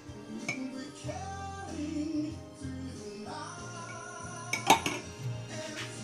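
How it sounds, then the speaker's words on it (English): A spoon stirs hot chocolate mix in a cup, clinking and scraping against the sides in uneven strokes, with one sharp louder clink near the end over soft background music. "And stir that up really well until it mixes up pretty good."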